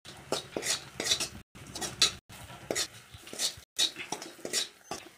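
A spoon scrapes and clinks against a pan while masala is stirred into frying okra, giving several short metallic strokes in an irregular rhythm, close and fairly quiet with brief pauses between them, and no talking.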